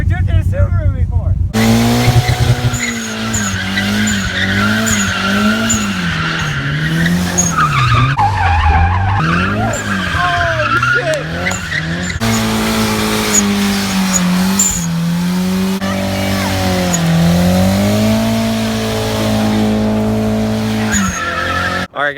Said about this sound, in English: I've never drifted a Subaru before.